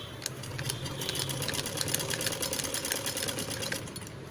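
A sewing machine stitches a blouse lining with a steady, fast mechanical whir and rhythmic ticking, heard close and fairly quiet, with no talk over it.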